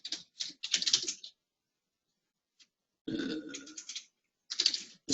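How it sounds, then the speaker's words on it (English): Close, quiet computer keyboard typing comes in short clattering bursts separated by pauses of silence. "Let me see if I can type it out here."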